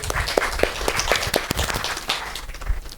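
Audience applause during a leadership development program session, a scattered crowd clapping unevenly with sharp individual claps standing out, moderately loud and continuous.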